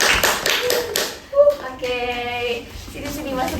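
A handful of people clap briefly for the sports, arts and culture department at a student-association podcast, a short burst of sharp claps up close before a voice begins speaking.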